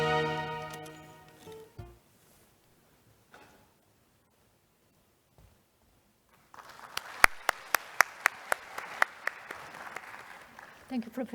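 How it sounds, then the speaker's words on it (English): Sparse applause from a conference audience at a display-industry opening ceremony, starting after a quiet pause with a few distinct claps that build into scattered clapping in a large hall; speech fades out just before. "Please give her a round of big applause."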